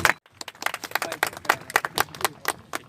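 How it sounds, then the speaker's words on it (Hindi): An audience claps at a commemoration event for Dr. B. R. Ambedkar, a run of sharp, fairly regular handclaps close by with a brief pause near the start. "जोरदार ताली हो भाई, जोरदार"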